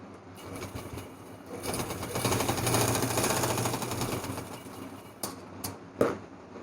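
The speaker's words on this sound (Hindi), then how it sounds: "इस तरह से इसको भी सेंटर में रखेंगे और इस तरह से सिलाई लगाएंगे।" An electric sewing machine stitches the belt of a fancy baby frock. Its motor hums up into a steady buzzing run and then slows, followed by a few sharp clicks and knocks.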